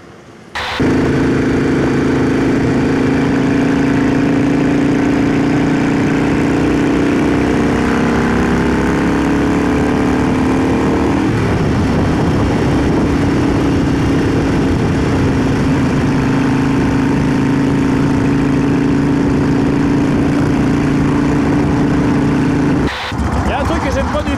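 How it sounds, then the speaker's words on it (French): A green Harley-Davidson motorcycle in Hawaii runs loudly and close for over twenty seconds, its engine note climbing in pitch, shifting midway, then climbing again before cutting off. "Alors cette moto fait beaucoup de bruit, je sais bien que c'est le mythe Harley"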